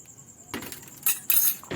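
Spoon or whisk scraping and clinking against a pan while custard mixture is stirred, giving a few short metallic taps and scrapes over a quiet background.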